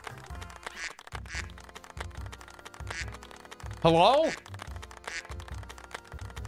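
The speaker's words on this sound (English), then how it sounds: "I think we have a duck infestation." A cartoonish duck quacks in the video game Doronko Wanko. One loud, rising quack cuts above a busy background of keyboard typing and game sounds, and a voice speaks briefly.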